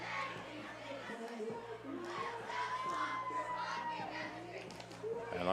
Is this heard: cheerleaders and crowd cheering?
yes